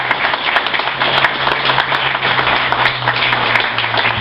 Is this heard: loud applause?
yes